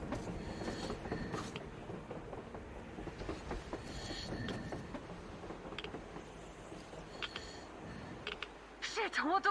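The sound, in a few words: train moving on the surface, from the video game Metro Exodus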